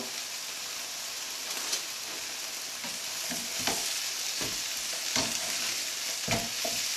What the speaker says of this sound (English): I'm probably able to hear it sizzling away there.